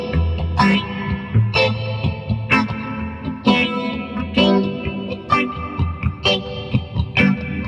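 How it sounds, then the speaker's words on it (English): An electric guitar with a phaser effect, played through a Sub Zero 20R valve amp, strums rhythmic reggae-style chord stabs with a swirling, sweeping tone. "So with a bit of phaser for some reggae"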